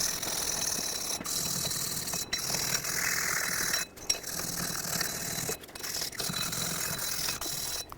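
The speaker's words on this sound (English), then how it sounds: "In between the lug studs here, I'm going to use a wire brush." A wire brush scrubs rapidly between the lug studs of a 1997-2003 Ford F-150 rear hub, a continuous harsh rasping scrape close up, broken by a few brief pauses.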